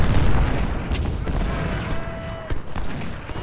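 Howitzer artillery fire in Ultimate General: Civil War, a series of booming cannon blasts and crackling distant gunfire rolling over a noisy battlefield bed, loud at the start and thinning out, with a brief whistling tone midway.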